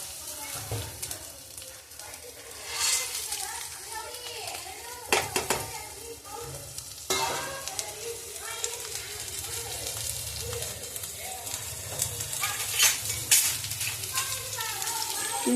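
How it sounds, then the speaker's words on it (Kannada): Onions and spices fry in a spoonful of oil over a low flame for country chicken sambar, a steady sizzle with occasional stirring and pan clatter, while a voice and faint children's sounds come and go. "ಲೋ ಫ್ಲೇಮ್ ಇಟ್ಕೊಂಡು ಸ್ವಲ್ಪ ಫ್ರೈ ಮಾಡ್ಕೊಳ್ಳಿ ಎಣ್ಣೆಯಲ್ಲಿ ಎಲ್ಲನೂ"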